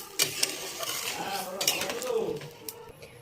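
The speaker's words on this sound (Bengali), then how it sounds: "ভালো করে একটু নেড়ে দেবো।" A spoon scrapes and clinks against a pot while hilsa fish curry, seasoned with nigella seeds, turmeric and salt, is stirred after hot water goes in, with light bubbling and a few sharp metal knocks.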